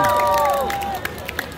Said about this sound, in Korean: 박수 한번 크게 주세요